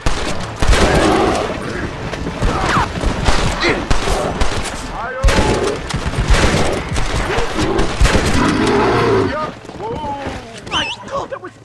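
Gunshots fired at a bear in the Red Dead Redemption video game, loud repeated shots and booming impacts over a chaotic stretch, with voices shouting and talking over the gunfire and a brief quieter pause near the end.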